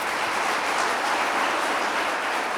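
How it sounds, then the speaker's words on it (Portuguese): A church congregation applauds together, producing a loud, dense, continuous wash of clapping that holds steady and close without any speech over it. "Você pode aplaudir o Senhor?"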